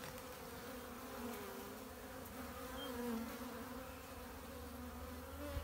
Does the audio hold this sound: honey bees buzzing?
yes